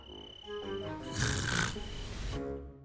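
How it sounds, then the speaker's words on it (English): A man snoring, a single drawn-out rasping breath that builds to a loud, harsh peak in the middle and then eases off, close and with no other sound. "It's hard to get rest when you snore through the night."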